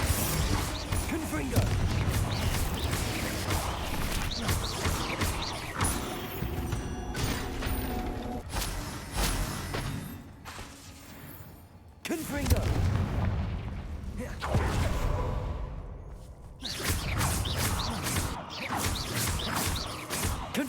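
Repeated Confringo blasting-curse explosions in Hogwarts Legacy, loud booming blasts and crashing impacts in quick succession, with brief lulls between bursts of spellcasting combat.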